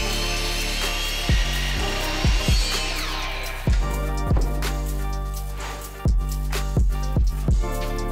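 A miter saw cuts wood trim with a continuous buzzing whine and repeated sharp knocks and clunks at irregular intervals, close and loud, with no voices.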